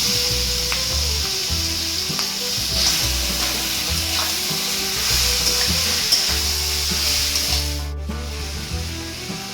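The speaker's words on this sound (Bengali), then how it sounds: "এবার দেখো সেদ্ধ করে রেখেছিলাম এই যে কচুর লতিগুলো, এবার এগুলোকে দিয়ে দেবো" Boiled taro stolons tossed into a hot pan with turmeric give off a loud, continuous sizzle, with scraping stirs and a low rumbling hum underneath throughout, and no one speaking.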